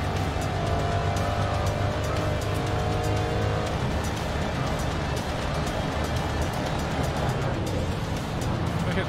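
A race car engine in the GRID Legends racing game drones loud and continuous at the rev limiter, with a dense mechanical roar throughout and no clear talk.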